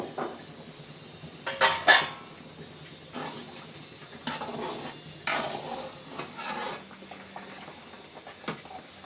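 Rava (semolina) stirred into vegetable upma in a pan, with a spoon scraping and clinking against the metal in irregular bursts over a quiet background and no talking.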